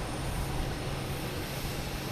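A JetBlue airliner takes off at Boston Logan Airport, bound for Raleigh-Durham, as a steady, broadband jet roar that holds at an even level throughout.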